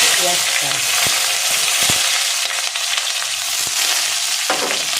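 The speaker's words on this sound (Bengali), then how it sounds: "পেঁয়াজটা সামান্য একটু ভেজে নেব" Chopped onion frying in oil with cumin, dried chili and bay leaf gives a steady, close, bright sizzle that runs the whole time, with occasional clicks from stirring.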